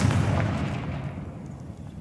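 A Confringo fire spell explodes in Hogwarts Legacy as a single heavy, booming blast that rumbles and slowly fades over about two seconds, with no voices.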